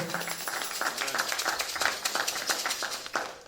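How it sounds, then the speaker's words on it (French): Congregation at a church worship service clapping in a steady rhythmic beat, crisp repeated claps at an even pace, moderately loud with a roomy feel. "Let us clap for the Lord."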